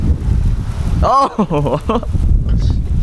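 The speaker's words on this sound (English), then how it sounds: "That wind, bruh." Strong outdoor wind buffets the microphone with a loud, continuous rumbling roar, while a man gives a brief exclamation partway through.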